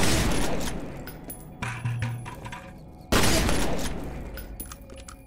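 Bursts of gunfire in the video game F.E.A.R. Perseus Mandate roar in two heavy volleys, loud and dense, each fading off before the next blast, with no talking.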